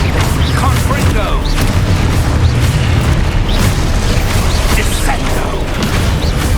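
Confringo blasting spell from the Hogwarts Legacy video game, a loud, steady roar of booming explosive blasts with mechanical clatter, dense and continuous throughout.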